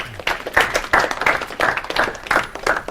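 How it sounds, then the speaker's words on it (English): Audience applause at a guest speaker series welcoming two guest speakers from a golf company, a moderate group of claps with distinct sharp hand claps standing out, close and lively, with no talk over it. "if you can help me welcome them with a little round of applause"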